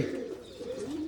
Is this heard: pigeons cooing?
yes